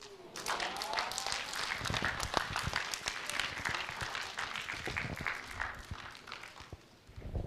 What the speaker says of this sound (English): Another round of applause for Baba